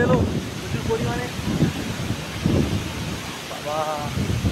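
Cyclone Remal brings a heavy storm, with dense rain and gusting wind as a continuous roar against the microphone, while voices speak intermittently over it.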